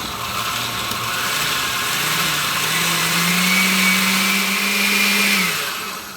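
A blender grinds chile de árbol salsa with garlic and bouillon in a loud, steady whir whose motor pitch rises and holds before tapering off at the end.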